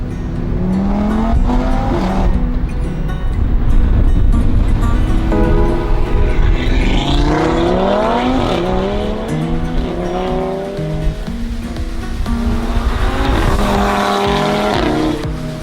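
A stage 2 tuned Audi RS3 engine revs and roars through gear changes on the road, loud and close, with rising and falling pitch sweeps over steady road rumble.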